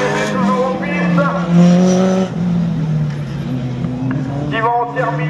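Race car at a slalom event at Le Neubourg revs and pulls away, its engine note rising and falling in strong harmonic bands, loud and close, with an announcer talking over it throughout.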